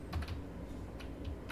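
Computer keyboard keys are pressed in a few quick, close, clicky taps with short pauses between them.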